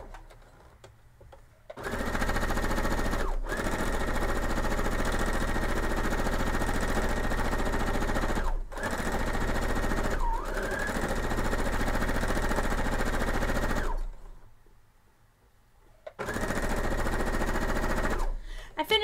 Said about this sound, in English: let's go ahead and sew this up